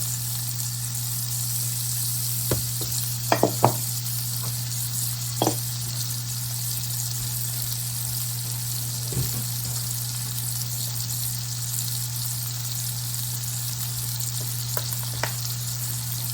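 Vegetables sweating in a pan with salt and pepper, giving a steady, even sizzle throughout, with a few brief clicks and stirring knocks over a low constant hum.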